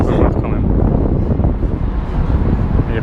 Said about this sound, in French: Il y a pas mal de vent ici quand même